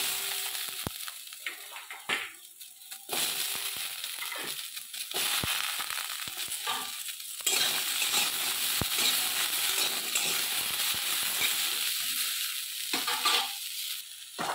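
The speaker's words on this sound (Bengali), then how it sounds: "এখানে আমি কড়ার মধ্যে ডাঁটাগুলো হালকা করে আমি নেড়ে নেব।" Neem drumsticks stirred and fried in a wok, a steady loud sizzle with scraping and clattering of the stirring spoon in bursts throughout, no talking.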